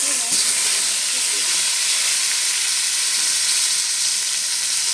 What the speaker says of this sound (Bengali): এটা এবার ভেজে নেবো আমি আর এই বেগুনটা ভাজার সময় এটার মধ্যে আমি একটু কালো জিরেও দিয়ে দেবো